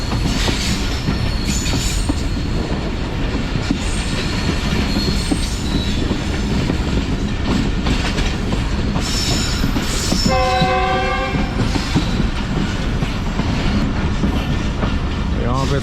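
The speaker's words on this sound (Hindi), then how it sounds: "दरियाए सिंध क्रॉस करने के बाद ट्रेन हमारी सक्खर शहर में दाखिल हो चुकी है" The Jaffar Express passenger train runs along the railway near Sukkur, its wheels clattering steadily and loudly throughout, with a brief multi-tone horn blast partway through.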